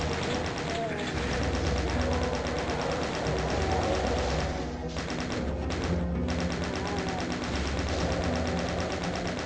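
Rapid mechanical bursts of chaingunner fire in the video game Doom 2, repeating densely and loudly amid other game noise, with someone talking over it.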